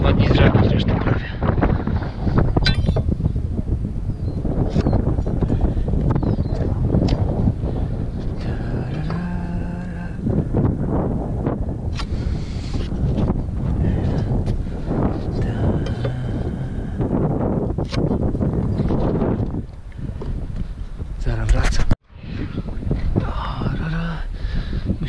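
Strong wind buffets the microphone on a roof construction site, a loud continuous roar that gusts and rumbles throughout, briefly cut by a moment of near silence before resuming.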